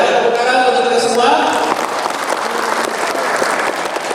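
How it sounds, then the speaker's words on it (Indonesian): An audience claps at a Halal Bi Halal member gathering in a hotel hall. Ringing music tones carry over the opening, then a dense, steady patter of hands continues to the end. "Tepuk tangan untuk kita semua"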